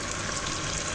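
Water drained from boiled dal pours into a pan in a continuous, close gushing stream for about a second.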